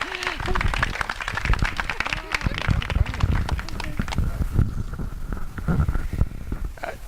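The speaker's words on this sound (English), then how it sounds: "let's give Ted a rousing applause" Lively applause and clapping from an audience at a political community gathering welcoming a speaker, busy and continuous for several seconds, with voices mixed in.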